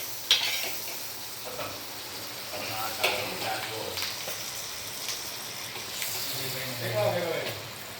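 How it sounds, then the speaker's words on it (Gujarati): Kutchi dabeli toasts in Amul butter on a pan, giving a soft, steady sizzle with occasional scrapes and clinks, while someone talks over it. "અમૂલ બટરમાં તમે શેકો અથવા તેલમાં પણ શેકી અને ખાઈ શકો."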